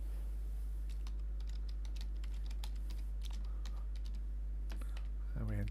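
Quick, steady taps on a computer keyboard as a password is typed, close up over a low constant hum, with a brief voice near the end.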